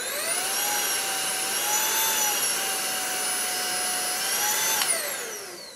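Aspiron CA-007 cordless vacuum cleaner running steadily with a loud, close motor whine that holds constant pitch with small wavering shifts, then winds down near the end as it is switched off.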